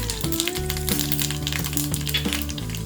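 Mustard seeds and urad dal tempering in hot oil in a pan, a lively close sizzle with sharp crackles and pops throughout, while a steady musical tone plays underneath.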